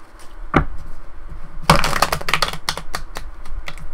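A deck of tarot cards being shuffled, a single riffle then a longer burst of rapid, crisp flicking and snapping, close and fairly loud with no talking.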